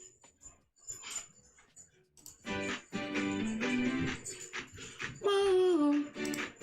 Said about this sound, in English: Oh my gosh, my dogs are going crazy